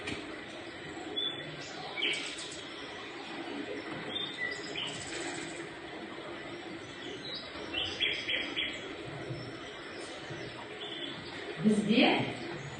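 Birds singing over softly babbling flowing water in a classroom audio recording, quiet chirps and tweets scattered over a constant low murmur, with a brief louder burst near the end.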